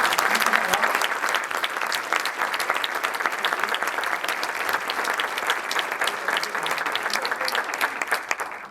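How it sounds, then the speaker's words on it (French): A film premiere audience claps steadily and enthusiastically, a dense, continuous wash of many hands from a sizable crowd that carries on for several seconds before tapering slightly at the end. "Applaudissements à mon Roger."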